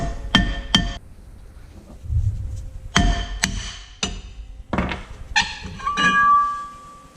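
Metal tapping on a stuck drum brake cover on a Foxbody solid axle: a handful of sharp clanks and thunks in irregular bursts, close and fairly loud, with ringing metallic overtones and no talking.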